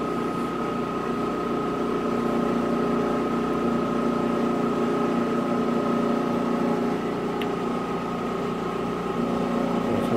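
A Balzers HLT-160 helium leak detector runs on its own, giving a steady mechanical hum with a constant whining tone that stays even throughout, with no voices.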